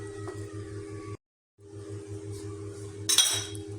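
Chicken marinade with vinegar being mixed in a bowl for crispy chicken bites, a soft continuous stirring with a low hum behind, a brief gap, then a sudden bright clink of metal on glass.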